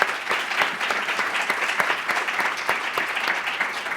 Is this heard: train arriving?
no